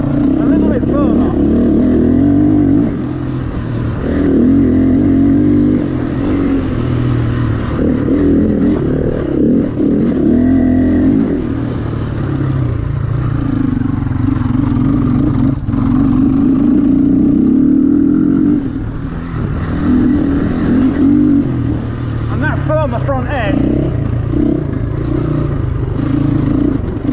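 A GPX 250e motorcycle holds a steady, loud engine drone through a hot lap on track, the sound sustained and continuous with slight shifts in pitch and someone talking over it.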